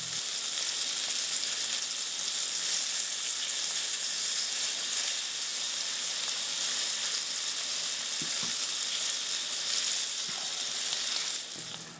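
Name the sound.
smelts pan-frying in minimal oil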